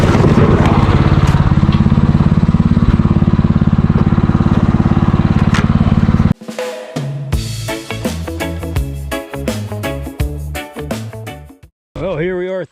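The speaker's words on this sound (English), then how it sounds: "let's see if we can get this tractor going again" A tractor engine being restarted on a hillside: a loud, rough, clattering run at first, then it cuts out and turns into irregular chugging with pitch changes, stalling briefly near the end before picking up again.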